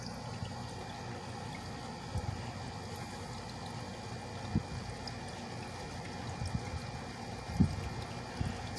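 A 1980s Patton CA-1284 rotary grill fan winds down after running on high, its steady whirring drone and rattling hum holding fairly even, with a few soft knocks rising near the end.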